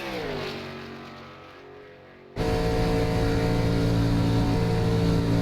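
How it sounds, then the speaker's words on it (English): A race car on track in the iRacing video game revs with a fading engine drone, then cuts abruptly into a loud, steady, close roar at high revs. "Can you hear this car on the track right now?"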